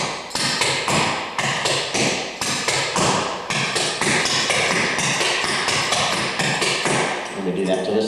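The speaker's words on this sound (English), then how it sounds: "4 double steps, and then I'll do the Canadian doubles." Clogging shoes tap out rapid double steps and Canadian doubles on a hard floor, crisp, close clicks in a brisk, even rhythm with short pauses between phrases.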